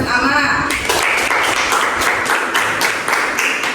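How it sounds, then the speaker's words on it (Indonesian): A primary school classroom of students breaks into applause after an Islamic jurisprudence lesson, a steady crowded clatter of small hands clapping for several seconds, close and fairly loud. "Tepuk tangan untuk Mas Aski dan Mas Ama"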